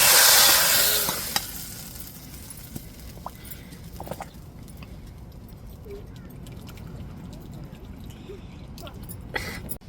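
Spices tempering in hot oil for a Tamil dried fish curry made with raw plantain, a loud sizzle bursting at the start then settling into a steady crackle with stirring clinks.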